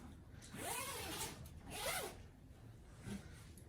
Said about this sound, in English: And then when you zip it up, you just tuck that part in.